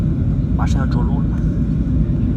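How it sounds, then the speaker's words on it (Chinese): Inside a passenger airliner cabin as it touches down and decelerates on the runway, a loud, steady low engine roar fills the space while a person talks over it. "哎呀，落地了，再减速，成功降落。"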